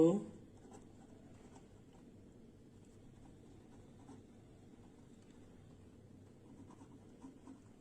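Hand writing during a class-nine Bangla maths lesson on work and time, a faint, steady scratching that runs continuously and quietly under low room noise.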